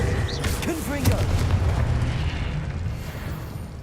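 Confringo fire spell exploding in the video game Hogwarts Legacy, a deep rumbling boom with crackling bursts that fills the few seconds, over dense battle noise and a voice.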